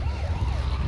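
Ambulance siren in the Dead Island video game, a brief wailing tone sweeping up and down over a low engine rumble, loud and close.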